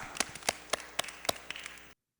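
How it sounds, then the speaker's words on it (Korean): A handful of scattered hand claps sound at an elementary school's online children's worship service: sparse, uneven claps close by for about two seconds, then silence. "함께 큰 박수로 영광 올리겠습니다."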